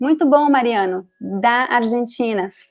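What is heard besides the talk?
No everyday noise stands out behind the speech.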